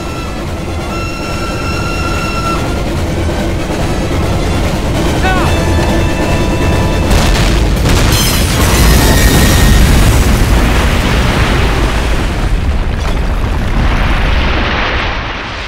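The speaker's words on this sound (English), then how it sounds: "Detonate on my command." Wartime night-raid explosion in Call of Duty: United Offensive, a loud broadband detonation swelling over mid-clip and rumbling on amid a steady, dense roar of game ambience, with faint dialogue underneath.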